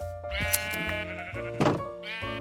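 Sheep bleating on a farm in the Minecraft survival game: a few wavering, tonal baas in succession, loud and close, with a dull thunk partway through and no talking.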